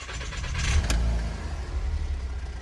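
A Volkswagen Jetta's engine, at 218,000 km, catches and settles into a steady, low idle rumble nearby, with a brief click near the start.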